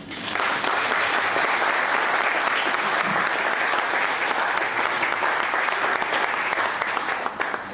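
Sustained applause from a large crowd, dense and even throughout, holding steady before easing slightly at the very end.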